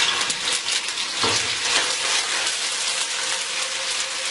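Garlic hitting a quarter cup of hot oil in a wok gives a steady, bright sizzle with spattering crackle, heard close and alone without talk.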